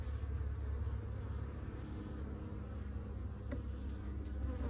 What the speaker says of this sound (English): and it has some bees